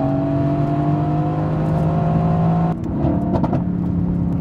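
A Mercedes-AMG GT engine idles with a steady low hum, then blips sharply as the gas pedal is pressed, giving a few quick close revs near the end.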